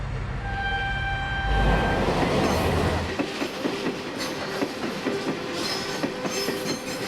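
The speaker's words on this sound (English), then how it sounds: "Every day, 226 trains run along it in pairs." Freight trains roll along a busy Chinese railway hauling mined cargo: a loud rumbling pass gives way to steady rhythmic clickety-clack of wheels over rail joints, close by.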